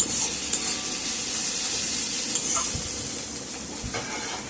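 Bitter gourd, onion and green chilies being stir-fried in a pan, with a steady close sizzle and occasional scrapes of the spatula throughout.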